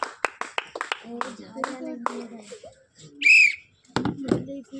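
Hands clapping in a quick uneven run during a vegetable-picking party game, mixed with voices, followed by a sharp loud whistle blast and more talk.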